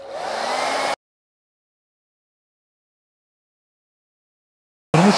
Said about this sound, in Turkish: Şimdi biz bunları bir fönle kurutalım bakalım.